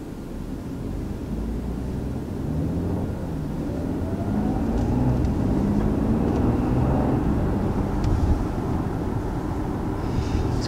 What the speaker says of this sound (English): Initially taking off from that stop sign there, under just partial throttle, this vehicle still feels really quick